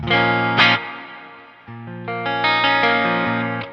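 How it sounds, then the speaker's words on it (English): A clean electric guitar rings out sustained chords, the notes trailing off into a spacious reverb tail added in post between strums. "Here's some reverb in post."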